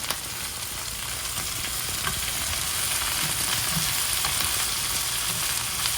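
Beef chili with jalapenos stir-frying in a pan on a stove set to high heat, a loud and steady close-up sizzle that holds evenly the whole time with faint stirring.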